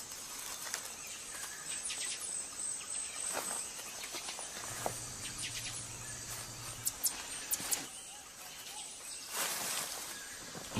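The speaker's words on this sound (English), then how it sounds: "It's easy to nod off when serenaded by a chorus of frogs and insects." A steady night chorus of insects and frogs fills the background at a moderate level, with a constant high insect drone and scattered soft croaks and clicks.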